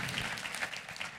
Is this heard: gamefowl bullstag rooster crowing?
no